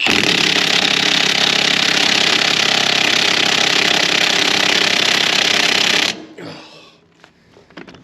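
A DeWalt 1/2-inch impact wrench tries to break a bolt loose on a Peterbilt 359, making a loud, steady hammering rattle for about six seconds before cutting off abruptly, followed by faint handling noises.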